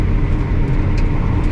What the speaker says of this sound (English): That actually uses engine braking, so I'm not actively engaging the brakes.